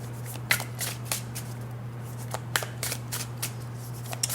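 Rider-Waite tarot cards riffle and snap in repeated bursts of shuffling, close and crisp over a steady low hum, with no talking.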